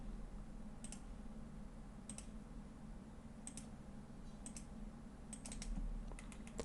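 Computer mouse buttons clicked while drawing in architectural design software, sharp faint clicks arriving singly and in quick clusters against a quiet room hum, no speech.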